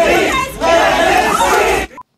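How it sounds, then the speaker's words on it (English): A crowd of angry neighbors and supporters shouts and roars together on a street in Davenport, Iowa, loud and dense for about two seconds before cutting off abruptly. "A crowd of supporters gather around him"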